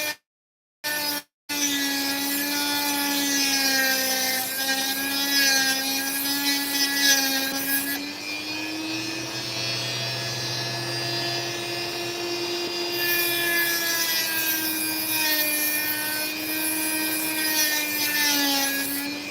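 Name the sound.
cutting opal close to a sand blockage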